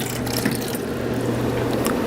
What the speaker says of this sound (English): Cold, good tasting water with a good stream. Look at that stream, bro.